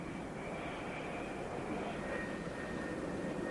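A Navy F-4B Phantom II jet on the deck of the carrier USS Forrestal during catapult launch operations, giving a steady, loud broadband roar with a high whine, sustained and unbroken throughout.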